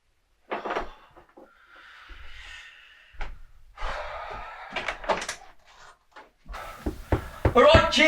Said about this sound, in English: the one on night shift is answering the bloody door